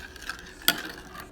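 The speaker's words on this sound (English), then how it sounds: "and stir up the sugar." Sugar is stirred into a grated potato, carrot and pumpkin pudding mixture with vanilla and salt, giving a soft, wet swirling sound with one sharp utensil clink against the bowl.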